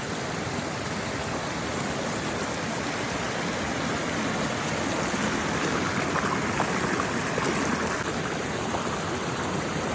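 A forest stream flows steadily during rain, a continuous dense rush of water close by with no voices, the level even from start to finish.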